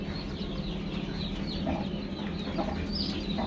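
Black Australorp chickens cluck in a busy farmyard, several soft clucks and chirps scattered over a steady, noisy background.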